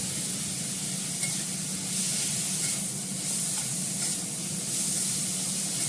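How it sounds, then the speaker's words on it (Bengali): Food fries in an uncovered pan, producing a constant, even hiss of oil that gently swells and fades, close and steady without speech. "এটা খোলা অবস্থায় আমি এটা ভেজে নেবো"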